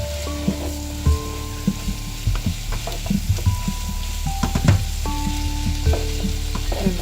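Beef stew with prunes and bay leaf sizzles steadily in a pot over medium heat, with soft stirring scrapes and occasional utensil clinks over the constant frying hiss.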